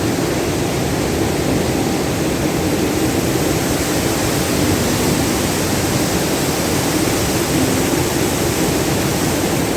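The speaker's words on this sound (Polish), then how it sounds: "No i mamy pierwszy wodospad." Constant, roaring rush of a waterfall in Brecon Beacons National Park, Wales, fills the scene, loud and unbroken from start to finish with no voices.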